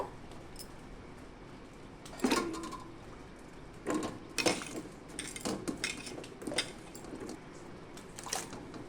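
A knife cutting pointed gourd and prawns on a board: soft, intermittent close clicks and scraping taps, spaced irregularly and fairly faint against a quiet room.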